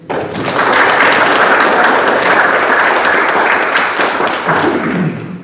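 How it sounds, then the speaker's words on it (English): Applause for a staff member fills a Bude-Stratton Town Council meeting room, a loud sustained wash of clapping that starts abruptly and tapers slightly near the end. "a round of applause for all her hard work, please"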